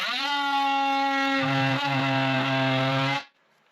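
An oscillating multi-tool cuts into wood craftsman molding with a loud, steady buzzing whine that wavers slightly as the blade bites, then stops abruptly near the end.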